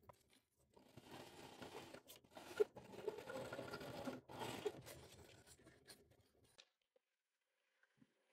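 Sewing machine stitching a vinyl pouch, a close, even mechanical hum running for several seconds with brief pauses and clicks, then stopping into near silence.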